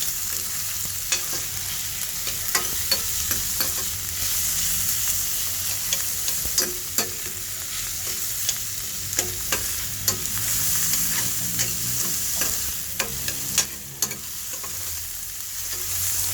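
Garlic, onion, tomato and ginger sautéing in a pan for sinigang na bangus, a steady close sizzle and frying hiss with repeated clinks and scrapes of stirring throughout.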